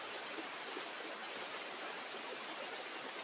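Paruva waterfall running full during the monsoon, heard as a steady, dense rushing roar that holds even and unbroken throughout, with no voices over it.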